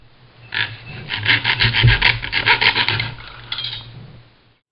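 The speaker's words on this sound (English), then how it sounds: "Then get a saw and cut where you marked the PVC." Hand saw cutting through PVC pipe, a run of close, rhythmic rasping strokes, about a dozen back-and-forth passes, then tapering off.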